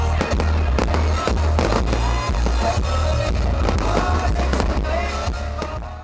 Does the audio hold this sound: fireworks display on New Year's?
yes